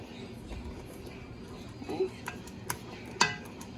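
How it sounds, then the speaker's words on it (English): A spoon works through a thickening sauce in a pan for a Gruyere spinach pastry ring, soft scraping strokes with a few sharp clinks against the metal, quiet and close. "Keep continuously mixing, and as you can see, it starts to thicken pretty rapidly"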